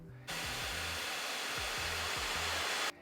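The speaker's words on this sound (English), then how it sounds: "When these things are turned up though, there's a bunch of fans. It's loud." Loud, steady rush of fan noise from a ventilated seat cover in a Tesla Model Y, starting abruptly and holding at constant level for a few seconds with a low humming motor tone, then cutting off sharply.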